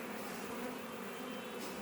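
Honey bees buzzing at an open hive, a dense continuous drone from many bees close by, steady and unbroken with no voices.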